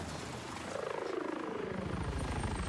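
Helicopter in a video game, a rotor chop that starts soft and becomes a steady, rapid low thudding, moderately loud, with no talk.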